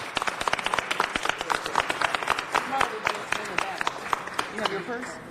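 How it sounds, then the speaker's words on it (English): A council meeting audience applauds the lines crew, a dense patter of individual claps filling the room at steady strength, with voices murmuring underneath. "give them another round of applause"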